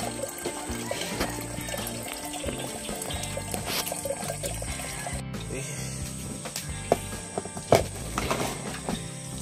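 Hot water is poured continuously into a cup for morning coffee in a home kitchen, a steady splashing trickle with small clinks and a brief knock near the end, with no talk.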